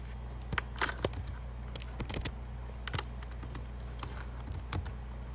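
Typing on a computer keyboard, scattered light clicks in irregular bursts over a steady low hum, close and fairly quiet.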